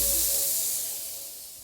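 Pork chops sautéing in oil in a pan, giving a steady loud close hiss and sizzle that slowly fades, with no talk.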